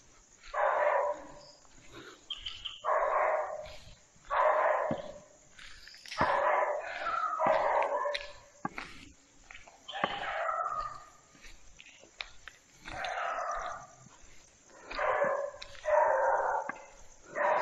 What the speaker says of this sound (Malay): Kita pikirkan ada gangguan. Rupanya anak anjing.